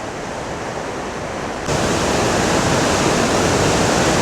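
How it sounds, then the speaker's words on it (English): Great Falls on the Potomac River, beside the Chesapeake & Ohio Canal, with water pouring over rocks in a loud, continuous roar that surges even louder partway through. "And here on the left side, water is falling onto the right side."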